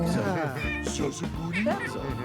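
A pet cat in The Sims 3 life-simulation game gives a short meow, heard under continuous talking and game sounds.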